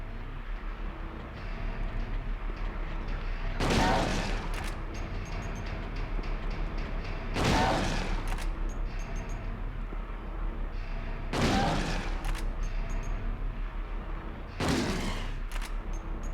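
Four heavy shotgun blasts in Silent Hill 2, spaced roughly four seconds apart, each a loud broad crack with a short decaying tail over a low ambient drone.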